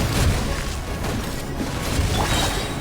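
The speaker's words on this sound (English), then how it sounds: "Cannon fire!" Cannon fire in the video game Genshin Impact, a dense rumbling barrage of booms and crashes layered over constant battle noise.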